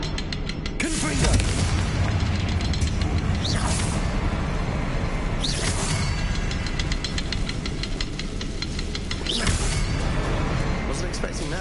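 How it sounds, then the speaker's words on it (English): Confringo fire-blast spell explosions in Hogwarts Legacy on PS5, heavy booming blasts over a rumbling game soundtrack, with a voice shouting spell names. "Confringo!"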